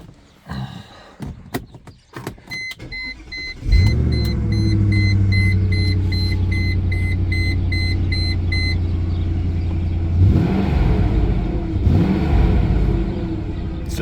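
A 1999 Mercedes C43 AMG with 201k miles clicks and beeps, then cranks and starts with a loud burst before settling into a steady idle, with a brief rev near the end.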